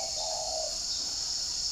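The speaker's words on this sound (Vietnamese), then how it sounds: "Đây là một cái nôi của chim gáy luôn các bạn ạ." Spotted dove cooing in a rural area close to forest, a faint, short call heard over steady background hiss from insects or wind.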